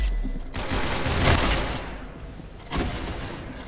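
Sustained gunfire in Roblox Arsenal, dense rapid volleys of shots that swell, drop briefly, then resume loud and close.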